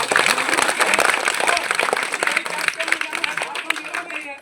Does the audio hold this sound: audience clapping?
yes